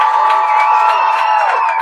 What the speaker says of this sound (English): I got a little cheer.